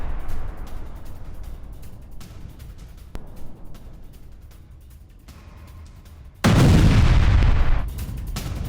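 Explosions at a fuel depot: a loud, sustained roaring blast erupts partway through, following a stretch of dull rumbling and scattered thuds, with no voices.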